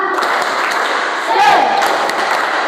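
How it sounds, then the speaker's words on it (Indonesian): In an Indonesian classroom, a group of standing students performs a rhythmic cheer clap, a loud, close burst of patterned clapping mixed with chanting voices. "Tepuk semangat."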